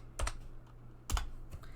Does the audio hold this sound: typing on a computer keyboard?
yes